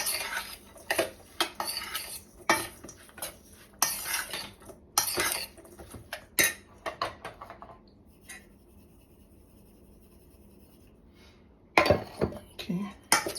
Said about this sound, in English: Now, so mix up the salmon with the seasoning I put on it.